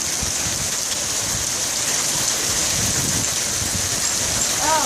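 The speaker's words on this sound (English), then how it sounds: "there's getting quite a pile of hail here, eh, Malcolm?" Hail pours down steadily during a hailstorm in Toronto, a dense, constant roar of pellets hitting surfaces, loud and unbroken from start to finish.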